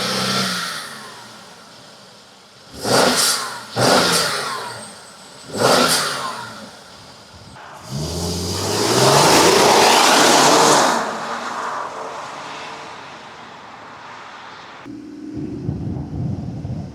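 A Mercedes GLE 400 with a V6 engine revving on a dyno: three short sharp blips, then a longer sustained rev that builds loud and falls away into a lower idling drone, heard close and without talk.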